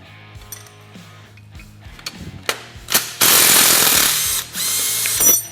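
A nut and bolt are worked off a differential cradle on a Can-Am Maverick 1000R, with scattered metallic clicks and clanks building into a loud burst of power-tool whirring near the end.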